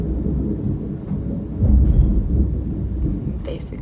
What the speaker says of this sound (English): it's thundering here, and it just thundered really loudly